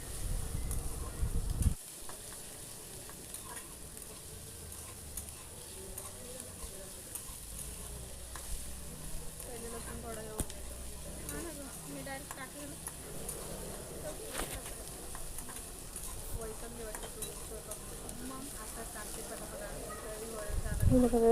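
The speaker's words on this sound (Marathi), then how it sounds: "हे बघा व्यवस्थित कांदा परतून घ्यायचा आहे." Onions stir-fried in a pan with garlic for a home-style jackfruit bhaji, giving a steady sizzle with stirring scrapes throughout, close and moderately loud, while a voice talks over the cooking.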